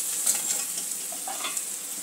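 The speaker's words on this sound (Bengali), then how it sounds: "অল্প নুন দিয়ে দেব। একটু ভালো করে মশলাটা কষে নেব।" Spices and salt sizzle steadily in hot oil in a pan while being stirred, a close continuous frying hiss with soft scraping stir strokes throughout and no voices.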